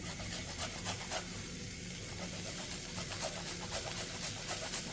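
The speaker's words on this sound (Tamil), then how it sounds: "இதை லைட்டாக வதக்கிக்கிடுவோம்." Garlic and grated ginger sauté in hot ghee as a continuous close sizzle, with light scraping stirs and soft pops across the whole stretch, no voices.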